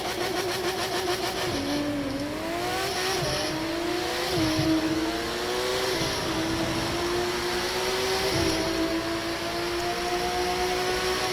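A Porsche GT3 RS accelerates along the Vegas Strip in the racing game The Crew 2, its engine note climbing through several gear changes in a loud, continuous rising drone with no one speaking.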